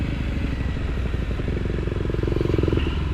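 Triumph Tiger 900 Rally Pro motorcycle ridden slowly over soft sandy trail, a loud, steady engine drone with rattling clatter, heard up close and without talk.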